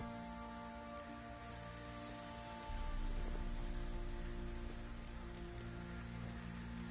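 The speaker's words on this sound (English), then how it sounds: "midges will be fighting on account of this downpour" Steady heavy downpour in a video game hisses continuously over a low, droning background with faint tonal hum, growing slightly louder partway through; no voices.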